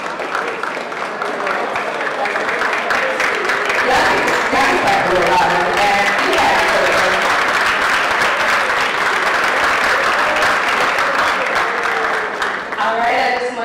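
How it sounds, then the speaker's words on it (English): Audience applause at a summit event swells into a dense, sustained round of clapping from a sizeable crowd, steady and loud for over ten seconds before tapering at the end. "Y'all can clap a little louder than that."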